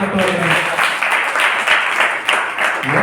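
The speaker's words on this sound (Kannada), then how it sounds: "ಜೋರಾಗಿ ಚಪ್ಪಾಳೆ ತಟ್ಟೋದು." A church audience at a pastor's sermon claps loudly, a dense, steady wash of many hands filling the whole span, with faint voices mixed in underneath.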